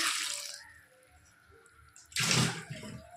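Water poured into a kadai of taro (kochu) flowers with salt on the stove, two close splashing pours with a brief quiet gap between them and no talking.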